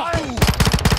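Call of Duty gunfire on Ashika Island, a quick automatic burst of about half a dozen punchy shots following a brief game voice announcement.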